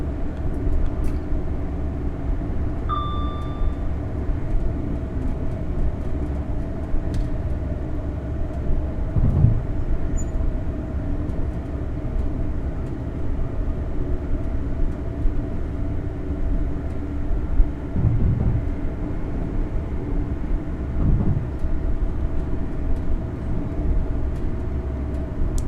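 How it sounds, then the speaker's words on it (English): A GWR Class 800 train in Train Simulator coasting with power off, a steady low rumble of wheels on rail with a constant hum and a few faint clanks and short tones along the way. "At this point I'm going to shut off the power and allow the train to coast."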